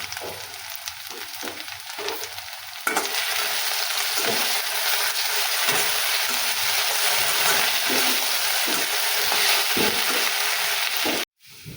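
Potatoes fry in a pan with a steady, close, dense sizzle that swells louder after a few seconds and holds, then cuts off abruptly near the end.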